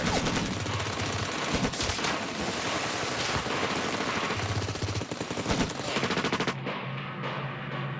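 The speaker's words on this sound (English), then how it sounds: "As they reach midstream, the Bolivian soldiers open fire." Dense, continuous gunfire from Bolivian soldiers opening fire on guerrillas crossing a river, a loud sustained fusillade of rapid shots that runs for over six seconds and then stops abruptly.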